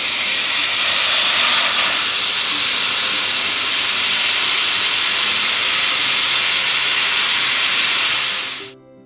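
Crayfish laid butter side down in a very hot pan give a loud, steady steamy hiss and searing roar that holds for about nine seconds before cutting off abruptly.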